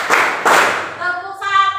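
A group claps hands together on a counted beat: two loud, crisp unison claps close by, followed by a voice speaking.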